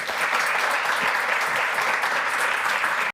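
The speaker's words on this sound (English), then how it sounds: "I want to give one more round of applause to Aaron and to 200th episode" Audience applause at a podcast's 200th-episode event, a dense even roar of clapping hands holding steady and loud throughout before cutting off abruptly.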